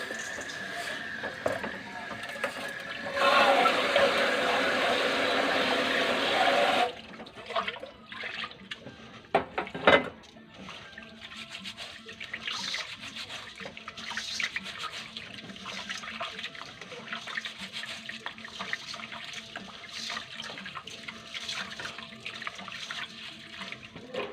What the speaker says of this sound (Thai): วันนี้เขาก็มาล้างข้าวก่อนเนาะ